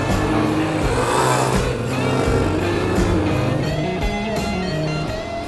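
A Suzuki dual-sport motorcycle, a DR-Z250 or DR200SE with a worn rear shock, runs under load while ridden, its single-cylinder engine droning loud and close with rising and falling revs plus wind rush.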